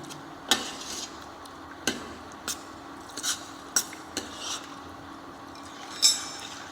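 A spoon stirs a brown sauce roux in a pan: scattered light clinks and scrapes of metal on the pan at an uneven pace over a low, quiet background, close by.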